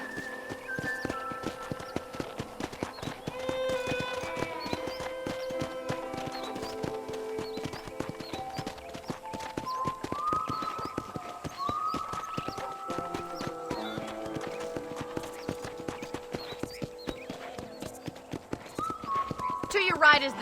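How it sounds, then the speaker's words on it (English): A horse trots through a ranch in Red Dead Redemption on Xbox Series S, its hooves making a steady, rhythmic clip-clop throughout, set under game music and voices. "let's see if you can still ride a horse"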